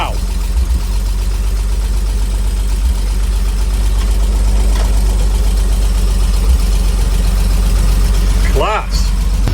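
A 1950s Bedford engine idles with a steady, loud, low rumble throughout, while people talk excitedly close by.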